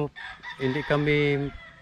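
A backyard rooster lets out one full crow close by, a rising call that holds steady before trailing off, with no other sounds around it.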